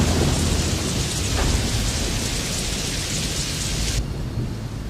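A hailstorm pours down with heavy, dense rain and hail hiss and a low thunder rumble underneath, loud and continuous, ending abruptly in the last second.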